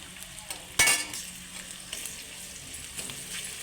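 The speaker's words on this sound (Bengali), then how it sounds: "আদা রসুনের পেস্ট দিয়ে দেব।" Ginger garlic paste fries in hot oil with a steady sizzle, opening with a sharp metallic clank of a spoon and followed by light scraping and stirring strokes.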